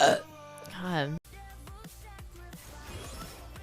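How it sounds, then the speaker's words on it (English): A woman gives a loud, drawn-out burp at the start, followed by softer throat sounds and background game audio. "Good burp."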